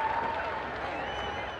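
A crowd applauds and cheers in the packed fairgrounds arena at the Moses Lake Demolition Derby, a steady wash of clapping and crowd noise at moderate distance lasting throughout.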